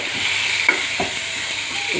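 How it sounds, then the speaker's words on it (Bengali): Raw mango pieces hit hot oil in a kadai, giving a steady close sizzle with a couple of brief stirring clinks over two seconds. "দেখতে পাচ্ছ কাঁচা আম দিয়ে দিচ্ছি আমি কড়াই দিয়ে।"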